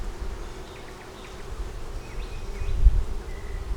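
Honey bees buzz around a hive frame in a close, continuous drone, with individual wingbeats rising and falling in pitch as they move about.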